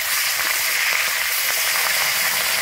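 A fish head sizzling in hot mustard oil as it is turned in the pan: continuous loud, close crackle and hiss with small pops, uninterrupted and without talk.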